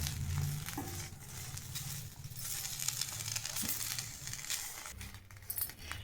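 Curry leaves dry-roast in a pan with a soft, continuous crackling sizzle and light rustling as they are stirred. It carries on steadily at a moderate level with no voices.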